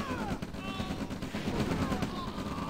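Rocket strikes from a V2 launcher in a strategy video game, a dense barrage of overlapping blasts and gunfire filling the whole stretch, with a commentator's voice running over the battle noise.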